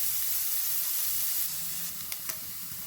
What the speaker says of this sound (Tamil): இந்த வெங்காயத்தை நல்லா வதக்கிக்குங்க